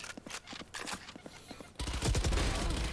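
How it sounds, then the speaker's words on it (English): Gunfire in the video game Valorant: quick bursts of rapid shots crackle at first, then a heavier, louder stream of automatic fire takes over and continues steadily to the end. "A lot of bullets."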